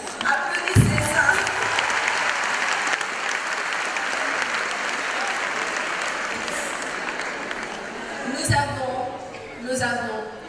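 An audience applauds in a hall at a school back-to-school event, steady dense clapping throughout with a few louder bursts and brief voices near the end.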